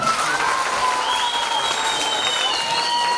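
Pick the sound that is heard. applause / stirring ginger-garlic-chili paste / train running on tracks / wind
applause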